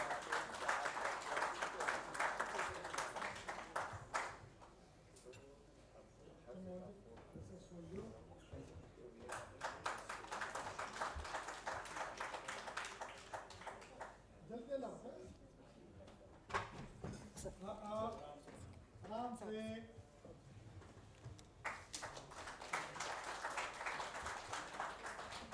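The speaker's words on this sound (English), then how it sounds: "Can we have a round of applause, please?" Applause for panelists at a national disaster management workshop, bursting out in several rounds of room-filling clapping, broken by stretches of talking between them.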